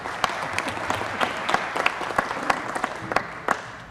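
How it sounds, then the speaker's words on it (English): An audience at a city council meeting gives a young man another round of applause, with scattered sharp claps standing out from a moderate, steady patter. "give him one more round of applause"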